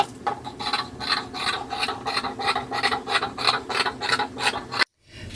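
Scissors snip through fleece fabric along the rolled, dotted selvage edge in a steady series of about a dozen rhythmic cutting strokes, close and crisp, ending in a brief silence.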